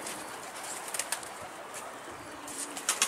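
A pigeon flies overhead, with soft flapping wingbeats and brief rustling bursts over an outdoor background hiss, faint and fairly close, with no talking.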